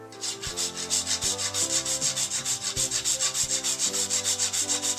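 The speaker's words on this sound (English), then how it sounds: "Now we want to add 1 teaspoon of freshly grated nutmeg. Now freshly grated really makes a difference here. On one of these microplanes it takes about 20 grates." Whole nutmeg is grated on a microplane with about twenty brisk, rhythmic rasping strokes, each a loud, close scrape following quickly on the last.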